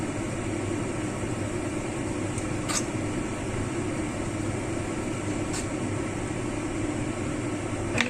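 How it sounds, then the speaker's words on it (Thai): A kitchen range hood extractor fan runs steadily throughout, a constant broadband whoosh with a few brief faint clicks, recorded while preparing sliced pork with no talking. "ก็เดี๋ยวเราปิดอันนี้ก่อนเพราะว่า เปิดที่ดูดอากาศนะคะ"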